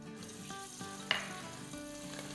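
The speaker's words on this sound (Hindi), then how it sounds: "देखिए कड़ी पत्ते हमारे फ्राई हो गए हैं" Curry leaves fry in hot oil on a low flame, a faint steady sizzle with one sharp crackle partway through.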